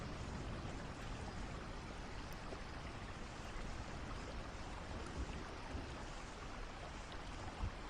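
Steady rain falling in a calm relaxation setting, a soft, even wash of drops and patter with no pauses, fairly faint and continuous throughout with no voices.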